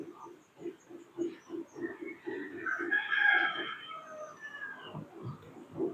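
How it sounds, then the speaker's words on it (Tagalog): An Asil-cross native rooster crows loudly nearby, a long strained call rising and falling, with other chickens clucking rhythmically in the background of a backyard flock. "Ayan yung tandang na yan."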